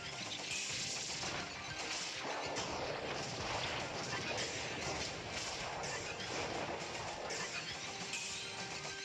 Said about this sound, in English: what do all these explosions got to do with it?